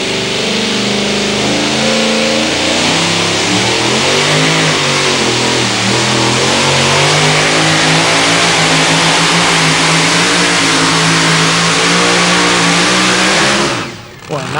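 A Chevy two-wheel-drive pulling truck roars at full throttle during a pull at the 2008 NTPA Grand Nationals in Brandenburg, Kentucky, a loud, sustained, strained engine note holding for about fourteen seconds before dropping away.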